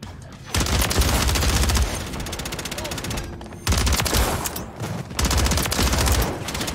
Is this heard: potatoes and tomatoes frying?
no